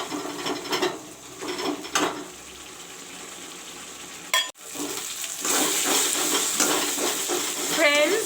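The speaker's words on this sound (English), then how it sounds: "now I will put some turmeric powder. I will let the masala brown" Turmeric powder and masala sizzling and browning in a pan for a chicken curry with cauliflower, potato and peas, a steady close frying hiss with scraping stirs throughout and a brief dip in the middle.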